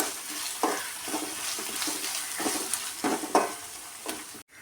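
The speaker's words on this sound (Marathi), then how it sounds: "एक चमचा मी अद्रक लसूण पेस्ट घेतली आहे ती पण याच्यामध्ये परतून घेऊया कांदा लालसर होईपर्यंत आपण हे परतून घेऊया" Chopped onion frying with ginger-garlic paste in a pan, a steady sizzle broken by regular scraping strokes of a spoon stirring the mixture, close and fairly loud, with no talking.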